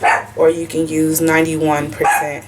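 A pet dog barks and yips in a tantrum indoors, several sharp repeated barks close by, mixed in with a person talking over them.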